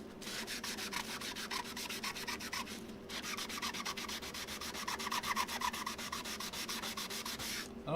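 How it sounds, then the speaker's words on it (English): A sanding block rubs back and forth across a wooden surface during a wood engraving session, making quick, regular rasping strokes with a brief pause partway through, close but fairly quiet. "I don't think the sanding blocks are made to do like large areas"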